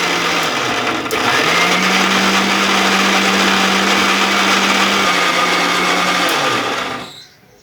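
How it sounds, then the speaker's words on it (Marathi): A mixer grinder blends garlic, ginger, green chilli and water for Malvani-style solkadi, giving a loud, steady motor whir that runs for several seconds, then winds down and stops near the end. "आता आपण हे एकत्र मिक्सरला लावून घेऊया."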